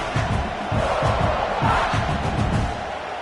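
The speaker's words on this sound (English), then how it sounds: "this crowd trying to help keep them there" A stadium crowd in the College Football 26 video game roars as a dense, continuous wall of cheering and shouting, with steady loudness and no single voice standing out.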